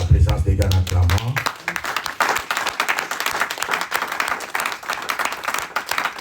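Church audience breaking into clapping and applause during a sermon, a dense rattle of many hands close by that starts after a voice speaks and carries on steadily.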